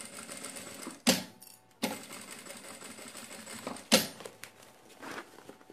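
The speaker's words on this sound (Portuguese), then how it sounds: "Vou costurar aqui por toda a volta com um pezinho de máquina." A domestic sewing machine stitches nylon 600 fabric for a sack bag in short runs broken by sharp clunks and pauses, close and fairly quiet with no talking.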